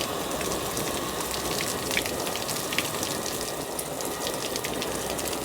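Water from a hose sprays steadily onto a fabric camper shell on a truck during a rain test, a dense continuous hiss and patter close by, with no voices.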